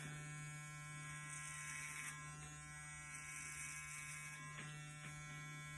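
Electric hair clippers fitted with a grade 3 guard buzz steadily through a gents' haircut, a close, faint hum with slight shifts as they move through the hair, no speech.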